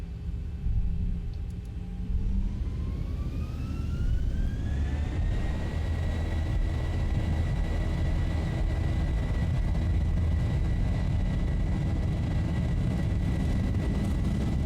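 Simulated Boeing 737-800 engines spool up during a takeoff roll in X-Plane 11, a rising turbine whine climbing in pitch over a deep, steady roar that holds loud to the end.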